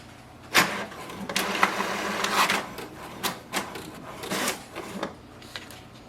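An HP DeskJet 2955 inkjet printer printing a page: steady mechanical whirring with repeated clicks and carriage thumps at irregular intervals, close and moderately loud.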